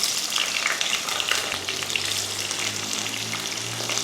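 Whole cumin and onion frying in hot mustard oil for a chicken curry, a loud, continuous crackling sizzle held up close for several seconds with a faint low hum beneath and no voices.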